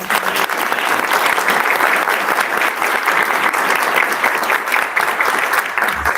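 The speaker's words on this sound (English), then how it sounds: "if everybody just wants to give a round of applause for our" An audience at a school board candidate forum breaks into a full round of applause, loud and even throughout, many hands clapping together with no speech over it.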